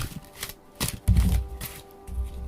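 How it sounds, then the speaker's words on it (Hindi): Tarot cards being shuffled by hand: soft riffling and flicking of the deck in short bursts, close and moderately quiet, with a brief thumping rustle midway and no talking. "तो ये आ गए हैं कार्ड्स एंड अब करते हैं हम शफल"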